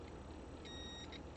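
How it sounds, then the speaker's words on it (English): A continuity tester beeps while probing a shorted capacitor in a CT Sounds T2500-1D car amplifier under repair. Two faint, short, high electronic tones sit over a quiet workshop hum. "We know it's going to beep."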